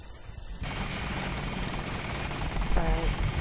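Helicopter in the video game Deus Ex, a steady low rotor and engine drone that starts abruptly and holds loud and constant, with a brief higher tone near the end.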